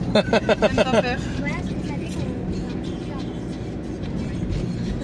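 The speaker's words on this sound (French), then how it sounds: "Je suis en bagnole." A car moves through town traffic in Belfort, a steady low engine and road rumble heard from inside the vehicle, with people talking over it early on.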